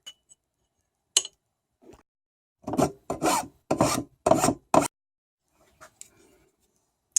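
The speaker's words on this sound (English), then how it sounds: "I clean off the backs of these so that they sit flush" Several short, scratchy rasping strokes in quick bursts, like sanding or rubbing the back of a wooden piece, with brief quiet gaps between.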